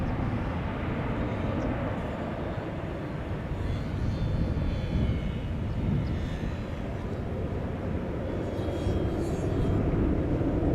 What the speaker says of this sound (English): This was an Embraer 190